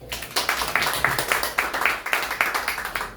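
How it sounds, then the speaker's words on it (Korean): A lecture audience claps in a steady, even rhythm of repeated beats, fairly close and moderately loud, with a faint voice now and then underneath. "다시 한번 박수 부탁드리겠습니다."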